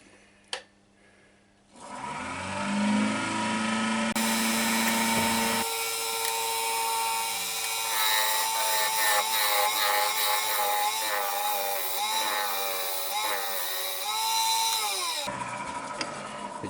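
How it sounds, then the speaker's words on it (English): Wood lathe facing off the flat base of a turned wooden inlay box, a steady close whirring drone with a shifting cutting tone that runs continuously for most of the stretch after a quiet start. "It just needs a little bit of facing off to make sure it's perfectly flat on the base."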